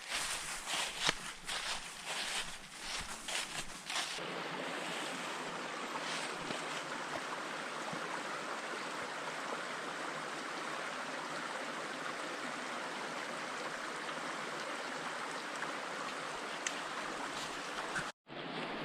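Broadband rushing stream at a trail water crossing on a forest loop hike in the Great Smoky Mountains, a steady close wash of flowing water, preceded in the first four seconds by crunching footsteps and knocks of hiking poles.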